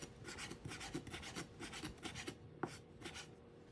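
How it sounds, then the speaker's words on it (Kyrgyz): Knife slicing tomatoes into thin strips on a board for a salad, a quick run of rasping strokes close up with one sharper knock near the end, and no speech. "Даярдап алган помидорлорубузду соломка кылып кесип чыгабыз."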